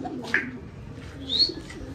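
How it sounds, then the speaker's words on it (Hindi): Pigeons coo softly with a few short calls at moderate distance, alone over a low background hum and no talk. "हमारे कबूतर है ये"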